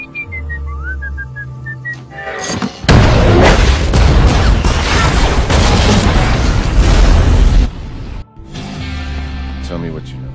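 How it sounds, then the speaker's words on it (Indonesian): A bomb blast in a film as a train's weapons car is blown up after the passenger cars are uncoupled: a tonal whistle gives way to a sudden, loud, sustained roaring rumble lasting about five seconds, then cuts off to quieter tones. "Mereka memisahkan gerbong penumpang, lalu meledakkan bom"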